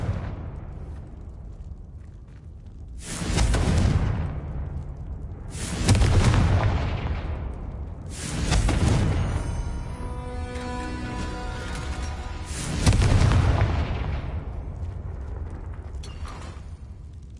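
Confringo blasting spells in Hogwarts Legacy erupt as four loud, booming explosions a few seconds apart, each with a long rumbling decay and crackling debris between blasts, no talking.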